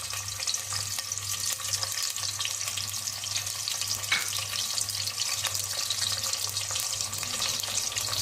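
Mutton dropped onto onions in a pan for an Indian brinjal, raw mango and mutton mixed curry sizzles and fries steadily and loudly throughout, with a constant hiss and no talking.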